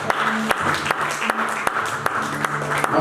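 A church congregation claps and cheers in praise of Jesus, a steady wash of applause with sharp louder claps scattered through it, under a voice speaking.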